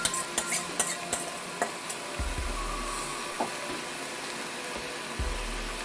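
Mutton mixture fries in a pan under a continuous sizzle, with a quick run of spoon clinks at the start and a few scattered scrapes and knocks afterwards.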